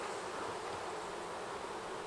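Honey bees buzz in a dense, steady swarm hum at a hive in a bee yard, constant and close, with no talking.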